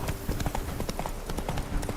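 The horse Roach clip-clops across ground in The Witcher 3 video game, a quick, steady run of hoofbeats at moderate volume, alone with no voices.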